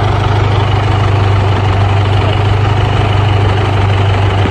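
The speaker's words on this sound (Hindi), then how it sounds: "अब वो ट्रैक्टर शहर लेके जा रहा है" A farm tractor used for rotavator ploughing in Punjab idles loud and close, its engine holding a steady, throbbing low drone with constant vibration throughout and no voices.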